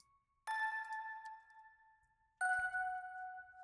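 A music box melody processed with Crystallizer delay and reverb for a production breakdown: two bright chiming struck notes, each ringing out in a long shimmering tail, soft and unaccompanied.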